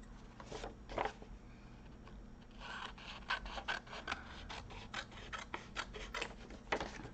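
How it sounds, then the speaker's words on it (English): Paper trimmed and folded for a junk journal: quiet, close rasping and rubbing strokes with irregular crisp snips and creases, some louder bursts, no speech. "let me trim this down and fold it so you can see where I'm going with this"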